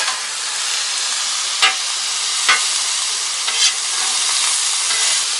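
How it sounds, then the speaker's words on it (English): Steak searing on a very hot Blackstone griddle gives a steady, loud sizzle, broken by a few brief scraping stirs of a spatula, with no voices. "We got our heat up pretty high, and we do that so this steak will sear really fast and not dry out."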